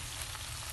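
Onions and tuna sizzle steadily in a hot pan for tuna sisig, a soft, even crackle of frying with no voices over it.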